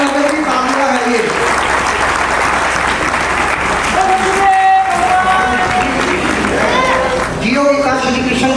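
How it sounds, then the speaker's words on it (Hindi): Sustained, loud crowd applause greets a revered guest at a religious gathering in Muzaffarnagar, continuous clapping with a voice talking over it at the beginning and end. "मुजफ्फरनगर की तालियां है ये।"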